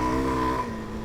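A Suzuki DR-Z4S motorcycle engine and exhaust hum steadily during an off-road ride, a loud tonal drone that eases slightly partway through, with no talk.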